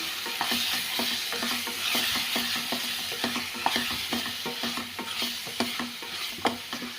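Liver being stirred with chili, salt and turmeric in a pan: a constant sizzle with a quick, regular rhythm of spoon scrapes and taps, close and fairly loud.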